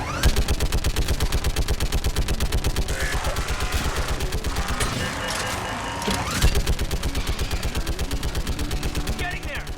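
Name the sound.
AE gun firing in video game Mass Effect 3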